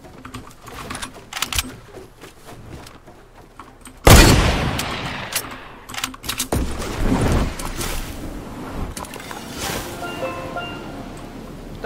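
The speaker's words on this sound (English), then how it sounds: "Don't shoot at me." Gunfire in the video game Fortnite comes in bursts of rapid shots, with a loud close volley in the middle and scattered pops around it, over game noise and clicking.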